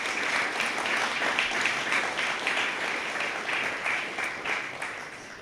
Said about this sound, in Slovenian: Tako da en aplavz, zaprosim za naše goste.